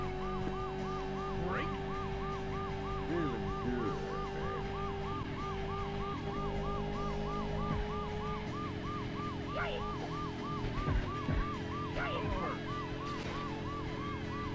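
Police siren in the PS1 motorcycle racing game Road Rash, a steady rising-and-falling wail repeating throughout over a constant engine drone and occasional game effects, loud and continuous with no talking.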